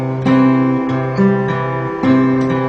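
Folk fingerstyle guitar picking pattern with a steady alternating bass under ringing plucked treble notes, close and clear, no talk.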